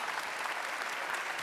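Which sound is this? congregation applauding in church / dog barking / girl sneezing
congregation applauding in church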